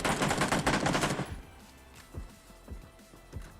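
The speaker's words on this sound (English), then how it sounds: "He heard those shots." Video game gunfire opens with a rapid, loud burst of repeated shots, then fades to a few sparse, quieter single shots and thumps.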